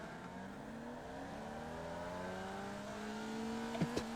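A race car pulls away from a green-flag start in iRacing, its engine note climbing steadily in pitch as it accelerates through the gears, fairly quiet and smooth, with a couple of brief clicks near the end.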